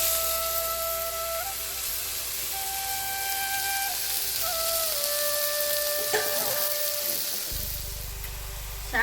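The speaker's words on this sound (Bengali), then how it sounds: "শাকটা ভাজা ভাজা হয়ে গেছে" Lai shak greens fry in a little oil, a sustained rain-like sizzle close by for several seconds, with faint background tones, stirring clatter near the end, and a low rumble as it finishes.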